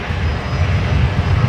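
A Qantas Boeing 737 at Brisbane Airport produces a steady, loud engine roar with strong low rumble, continuous and unbroken across the short stretch, no voices over it.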